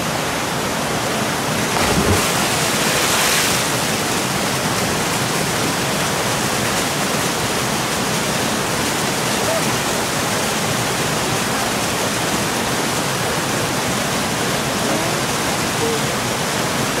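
Continuous loud rushing roar of waterfalls at Río de las Granadas, known as Mil Cascadas, in Guerrero, Mexico, a dense close wash of falling water with a brief burst near the start.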